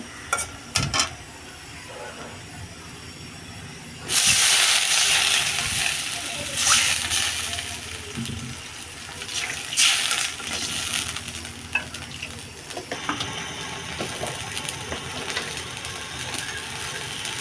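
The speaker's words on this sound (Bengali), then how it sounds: "এখন ভাজা হালকা ব্রাউন কালার হয়ে আসবে আমি এখানে দেবো একটু পানি" Spices frying in a pan with water added: a loud burst of sizzling and hissing starts partway through and keeps crackling steadily, over scattered stirring and clattering.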